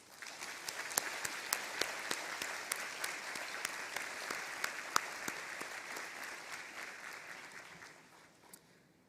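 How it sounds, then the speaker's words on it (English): An audience at an SMU opening ceremony gives a steady round of applause with crisp individual claps standing out, then the clapping thins and fades away near the end. "I invite everyone to please join me in giving all of you a very big round of"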